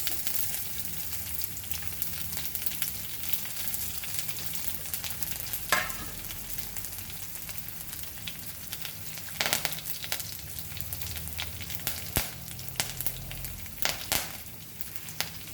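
Garlic, curry leaves, cinnamon sticks, cloves and peppercorns sizzle steadily in hot oil, a close, even crackle with occasional sharper pops and stirring, no one talking.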